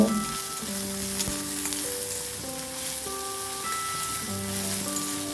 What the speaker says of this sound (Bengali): চুলার আঁচটা হাই করে আমি ভালো করে পেঁয়াজটাকে ভেজে নেব